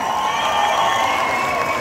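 An audience at a Kambala festival gathering on Bengaluru's Palace Grounds applauds a dance troupe, a dense, continuous burst of clapping and crowd noise for under two seconds.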